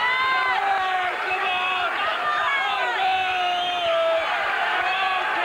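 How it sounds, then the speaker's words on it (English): A packed boxing arena crowd roars and cheers steadily and loudly throughout, a dense wall of voices with rising whoops and yells. "the crowd are out of their minds here"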